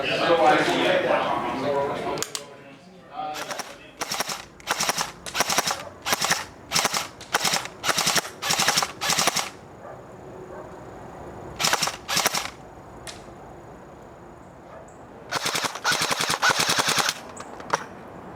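E&L Gen 2 AK74 airsoft rifle firing, with someone talking briefly at the start, then bursts of sharp, close, rapid shots in evenly spaced groups, a short pause, and more quick volleys toward the end.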